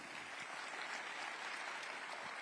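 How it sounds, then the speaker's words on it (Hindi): Thunderous audience applause at a summit, a brief, dense and even roar of many hands clapping, heard at a moderate level. "जोरदार तालियों की गड़गड़ाहट"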